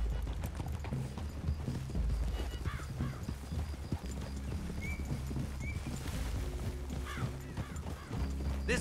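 Horse hooves clip-clop steadily at close range in Red Dead Redemption 2, with occasional whinnies and a rustling outdoor background.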